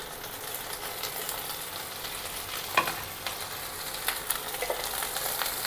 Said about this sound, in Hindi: प्याज के साथ भिंडी को एक साथ फ्राई कर लेना है